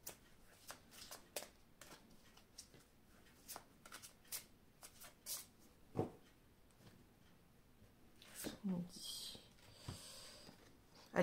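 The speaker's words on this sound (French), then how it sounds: "je vais prendre une carte des anges de l'amour ici" Angel oracle cards are shuffled and drawn by hand, a run of soft riffling flicks and slaps close by, ending in a few louder card handling sounds, with a voice speaking briefly.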